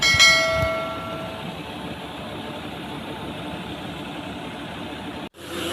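A maize sheller driven by a New Holland tractor starts up on a farm in Pakistan's Punjab, with a ringing metallic clank at first, then a steady, even mechanical drone.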